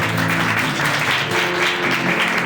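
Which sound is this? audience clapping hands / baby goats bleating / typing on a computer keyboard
audience clapping hands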